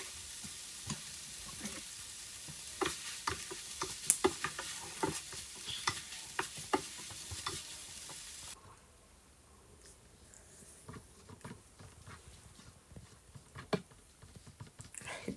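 A chicken filling with spring onion and cheese is stirred in a pan: a continuous sizzle with repeated spatula taps and scrapes, the frying hiss dropping noticeably quieter midway while intermittent stirring clicks carry on.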